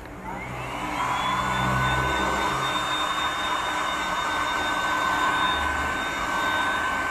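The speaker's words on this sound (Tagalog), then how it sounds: "Tapos blow-blower na lang natin siya para talagang kapit na kapit siya." An air blower roars steadily while drying freshly applied high-temperature paint on a Yamaha Gravis motorcycle cooling part, a loud continuous rushing whine after a quick rise.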